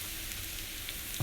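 Steady, soft sizzling of salmon patties frying in a small pan, a continuous crackle with no talking, ending in a brief low bump.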